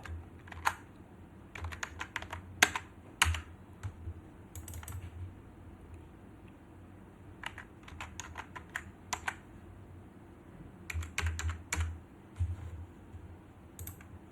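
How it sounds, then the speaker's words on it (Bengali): Typing a router user password on a computer keyboard: quiet, close bursts of rapid key clicks in short clusters separated by pauses, over a faint low hum in an otherwise still room. "ইউজার পাসওয়ার্ডটা যেটা রাইটেনের জন্য তৈরি করছি সেটা লিখব"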